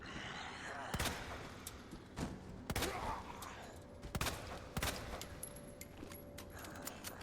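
Gunfire in the video game Resident Evil 2 Remake: about five sharp, loud shots spaced irregularly over a steady, murky in-game ambience, with faint metallic jingles between them.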